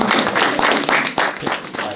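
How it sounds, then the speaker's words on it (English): Dense, steady applause from a group gathered at a hockey postgame press conference after a game against Alaska in the Ice Breaker Championship, filling the whole short stretch at close range. "everybody, round of applause for Wayne"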